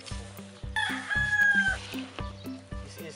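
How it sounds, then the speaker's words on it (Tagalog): A fighting cock crows loudly and close by on a small chicken hobby farm, with one drawn-out cry over repeated low clucking and calls from other fowl. "this cock, fighting cock, is very strong"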